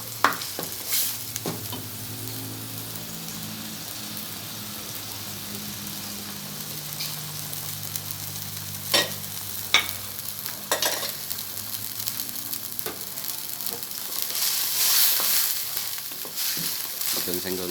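Bay leaves and lime leaves stir-fried in a pan: a steady low sizzle broken by sharp scrapes and clacks of the utensil, with the frying swelling louder near the end.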